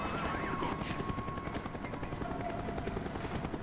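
A helicopter in the video game Call of Duty Black Ops drones steadily throughout, a continuous rotor hum with faint game sounds layered over it.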